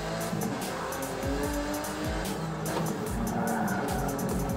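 A Porsche race car in Forza Motorsport 7 revs and shifts through gears with repeated tire squeals and skids, the engine loud and continuous, a faint voice occasionally in the background.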